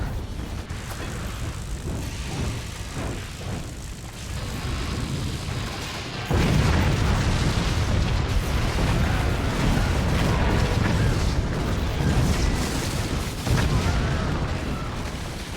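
Cannon fire from a video game team match slams into energy shields, a steady rumbling barrage of booms and bursts that swells louder midway and keeps rolling without talk.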